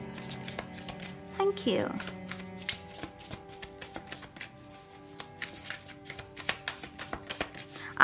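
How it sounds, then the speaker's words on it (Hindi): Tarot cards shuffled by hand close up, with quick papery riffles and soft taps in bursts, while a person speaks briefly over them. "तो शफल कर लेते हैं यहाँ पर।"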